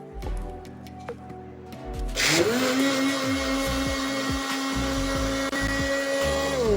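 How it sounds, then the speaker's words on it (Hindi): Electric blender grinding sugar, red sharbat syrup and a glass of milk, its motor whirring up with a rising pitch after a few clicks and then running loud and steady with churning liquid. "चलें, ग्राइंड कर लेते हैं हम।"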